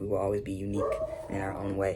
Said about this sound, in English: and he likes to bark